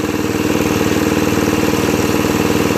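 A Murray Black Beauty lawn mower engine, its carburetor freshly cleaned and oil changed, idles a bit fast with a loud, close, steady rapid putter and even rhythmic pulsing, with no voices.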